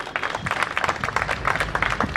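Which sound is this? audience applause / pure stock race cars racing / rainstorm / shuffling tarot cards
audience applause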